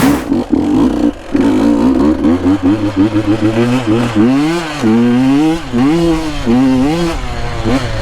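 A 2022 KTM 150 dirt bike revs and accelerates up close on a mountain trail, its two-stroke engine whining through rising and falling pitch sweeps as the rider works the throttle, loud and continuous with no talk.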